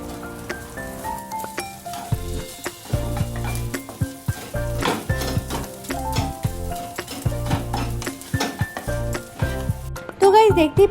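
Hilsa fish being stir-fried in a pan for ilish jhuri, with sizzling and sharp, intermittent clinks of a utensil against the pan under prominent background music.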